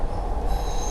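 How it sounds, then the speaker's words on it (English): A Toronto subway train runs through an underground tunnel with a steady, loud rumble and a faint high wheel squeal creeping in partway through, no talking. "I like driving the train."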